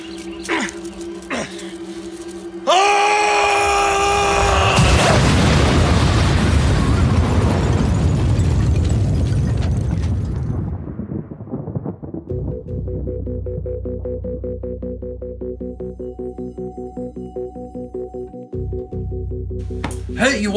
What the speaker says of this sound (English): An explosion happened in the forest today.